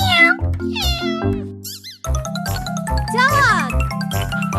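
A voice imitates a cat's meow several times in a children's nursery rhyme about animal names, set over a bouncy musical backing with jingling tones.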